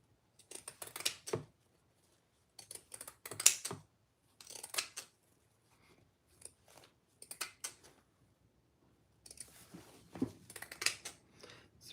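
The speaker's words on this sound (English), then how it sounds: "I'll use my pinking shears for this." Pinking shears snipping through black fabric at a sewing table, a series of soft, crisp crunching cuts in short clustered bursts with brief quiet gaps, close and fairly faint.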